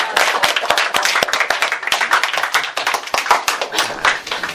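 An audience at a religious lecture on marriage claps in crisp, closely spaced hand strikes, loud and near, forming a lively continuous patter with no talking over it.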